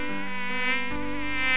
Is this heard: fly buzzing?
yes